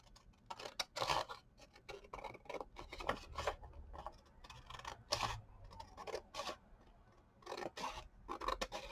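Scissors cut out a folded, painted brown paper bag for a paper jewelry craft, giving repeated close snips and rubbing paper rustles in an irregular rhythm, with no talking.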